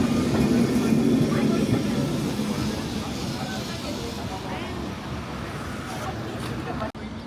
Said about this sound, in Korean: 28번 트램 타러 왔는데 사람이 너무 많아.